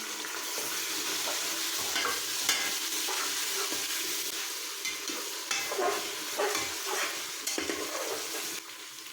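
Country chicken biryani base frying in a pot with coriander leaves, a steady close sizzle broken by repeated scraping stir strokes throughout, with no talking.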